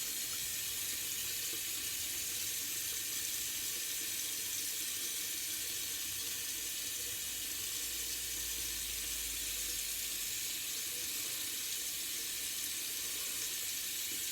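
Warm tap water runs steadily into a bathroom sink while an alum block is wet before shaving, a constant close hiss and splash that goes on unbroken with no voices.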